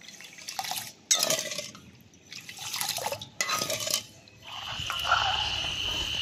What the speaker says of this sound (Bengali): এবার আমি চিনিটাকে ভালো করে গলিয়ে একটা পাতলা শিরা তৈরি করে নেব।